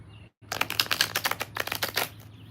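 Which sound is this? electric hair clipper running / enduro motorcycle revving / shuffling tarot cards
shuffling tarot cards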